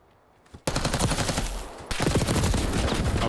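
Rapid automatic gunfire in a competitive Call of Duty match, loud and sustained with a brief lull before a second dense burst of shots.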